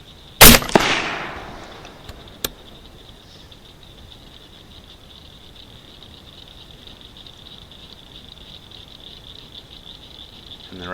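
A single loud gunshot cracks out at night as a beaver is targeted, followed by a fainter sharp report and then a quiet outdoor stretch with a steady high insect-like drone.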